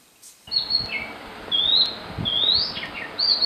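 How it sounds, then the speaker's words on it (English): Several short, bright bird tweets and chirps, each a rising whistle, come one after another over a soft background rustle, close and clear. "What's that noise? Oh, it's just Artis tweeting."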